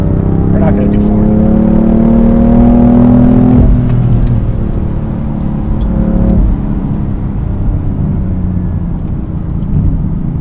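BMW F80 M3 engine pulling through a turn heard from inside the car, a loud rising engine tone that climbs then eases off with a gear change, with someone talking over the drone.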